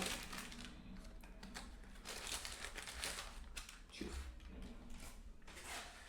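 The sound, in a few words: opening food packaging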